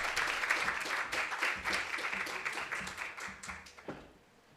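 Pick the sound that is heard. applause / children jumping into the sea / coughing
applause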